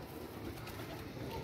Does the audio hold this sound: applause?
no